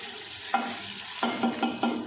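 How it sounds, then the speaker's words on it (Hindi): Spices crackle and sizzle in hot oil, with bursts of sputtering as the tempering is stirred into black masoor dal in a pressure cooker, close and moderately loud. "और ये बघार हम इसमें लगा देते हैं"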